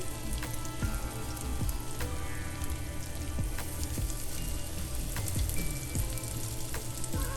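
Salmon croquettes, placed one at a time into hot flaxseed oil in a pan, frying with a steady loud crackle and sizzle and scattered sharper pops throughout, with no voices.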